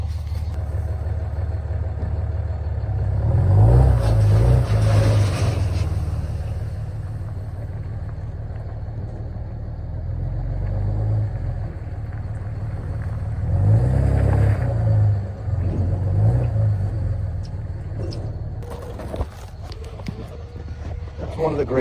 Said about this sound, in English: One of the greatest things about these leaf loaders is just how it grinds up the leaves and compacts them